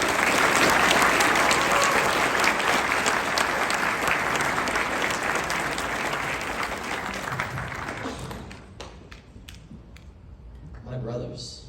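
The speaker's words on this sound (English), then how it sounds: "Let's all give him a round of applause." An audience gives a DeMolay flower talk presenter a round of applause. The dense, steady clapping runs for about eight seconds, then thins out and fades, and a voice rises faintly at the end.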